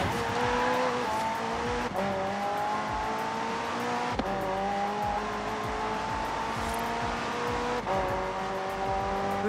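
McLaren twin-turbo V8 hybrid in Forza Horizon 4 gives a loud, close engine roar that climbs in pitch through each gear, with brief dips at the shifts and tire noise underneath.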